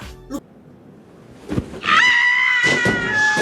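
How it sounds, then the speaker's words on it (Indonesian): A woman screams in a film scene, a high sustained shriek rising after a few sharp bangs, loud and close. "langsung kita dikasih suara teriakan dari karakter perspektif kita utamanya nih"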